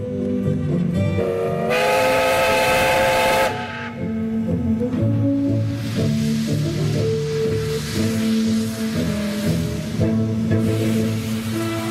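Steam locomotive LV-0182 sounds its whistle at an expo parade in Saint Petersburg, a loud sustained harmonic blast with a long held tone, then further whistle tones over continuous rail-yard and crowd background.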